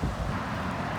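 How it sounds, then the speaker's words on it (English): Wind and rain outdoors near traffic, a steady broadband rush with low wind rumble across the whole short stretch and no clear individual events. "I know it's windy and rainy and there's traffic behind me here"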